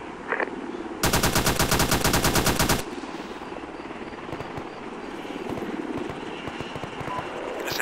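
A long, loud burst of rapid automatic gunfire rings out in a video game, lasting nearly two seconds, followed by quieter scattered shots and background game noise.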